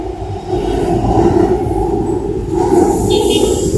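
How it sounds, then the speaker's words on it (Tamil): A Hyderabad Metro train pulling away from the station sends out a loud, steady low rumble with a droning mechanical hum, heard close by on the platform and lasting throughout. "நம்மளை இறக்கி விட்டுட்டு கிளம்பிடுச்சுங்க ட்ரெயின்"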